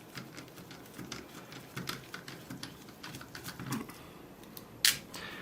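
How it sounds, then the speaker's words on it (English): Small screws being unscrewed from the hinge of a Nintendo DS Lite: a rapid run of tiny close clicks and ticks from the screwdriver, fairly quiet, ending in one brighter, sharper click. "We're going to unscrew the hinge."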